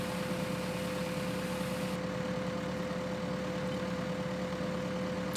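A tractor engine reversing in the video game Farming Simulator 2013, a steady droning idle hum with a constant tone that runs unchanged throughout.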